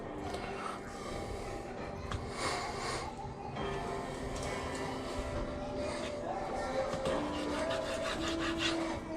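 A knife saws and scrapes through a catfish fillet up close, a steady, moderately quiet run of rubbing, rasping strokes with faint voices in the background.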